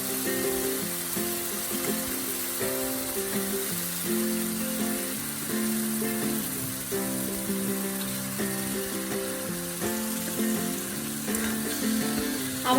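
Eggs frying in spice masala for Bengali dim bhuna, a steady close sizzle running continuously with light stirring, under a soft background tune.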